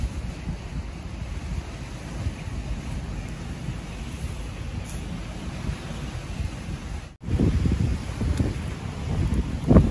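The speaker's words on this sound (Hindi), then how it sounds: "बहुत ज़्यादा हवा चलना शुरू हो चुकी है" Strong gusty wind roars outdoors through a cooking setup, low and steady with heavy microphone buffeting, briefly dropping out before surging louder toward the end.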